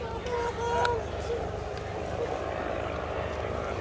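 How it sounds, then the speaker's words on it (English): Two de Havilland DH60 Moth biplanes running their engines at the Shuttleworth Fly Navy airshow, a steady propeller drone heard at a distance beneath a commentator speaking over a public address. "And the two DH60 Moths now are running in."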